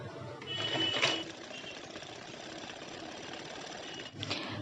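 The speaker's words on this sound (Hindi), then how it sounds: "पट्टी को ऐसे रख के पट्टी के ऊपर से एक सिलाई जाएगा, चाप सिलाई" Sewing machine running a line of stitching along a strip on a blouse, a steady close mechanical whirr with rapid needle chatter, starting and stopping at the ends, faint and alone.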